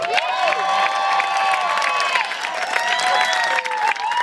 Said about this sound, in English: Big round of applause for Kevin Ware